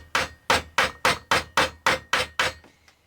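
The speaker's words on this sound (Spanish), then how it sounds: "La tendremos que acompañar un poquito del martillo." Nine sharp hammer blows strike a panel made from recycled laminated carton bricks. The blows fall in a steady, even rhythm and are close and clear, and the last two are softer.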